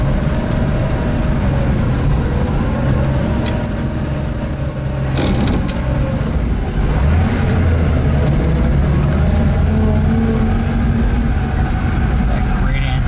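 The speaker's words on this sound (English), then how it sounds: "That great antique car sound," A supercharged 1936 Auburn 852 engine runs with a steady low rumble and mechanical hum, a brief high whine near the start, heard continuously and fairly loud.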